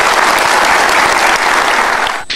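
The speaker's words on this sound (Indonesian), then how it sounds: "Oke, boleh dikasih tepuk tangan untuk dua tokoh ini." Audience applause at an Indonesian political talk event, a dense burst of clapping from a crowd that holds steady for a couple of seconds before starting to thin out.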